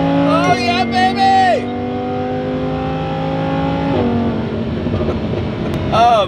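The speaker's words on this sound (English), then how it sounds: "let's do one more little pull before the Supercharger is put on this thing" A Lamborghini Huracan, still without its supercharger, accelerates hard. The loud engine note climbs and holds through a sustained pull, then shifts as the revs change near the end.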